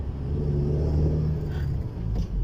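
An Isuzu truck hauling oil palm bunches runs in second gear at nearly 20 km/h, its engine a steady, close, heavy low rumble that holds level throughout with slight rises.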